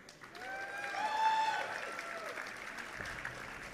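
An esports audience at a live StarCraft tournament event applauds and cheers, a broad swell of clapping and crowd noise that builds and then tapers, with an announcer's voice faintly threaded through.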